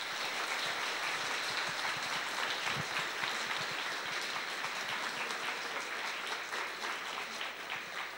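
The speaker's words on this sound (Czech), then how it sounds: "Prosím o potlesk." Lecture audience clapping to welcome Professor Tomáš Halík, a dense, even roomful of applause lasting several seconds without a break.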